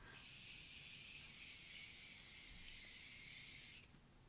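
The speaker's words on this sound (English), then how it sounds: "Alright, time for some setting spray." Tarte Maracuja Miracle Mist setting spray released in one long continuous pressurized hiss of fine mist, close and steady for nearly four seconds, then stopping abruptly.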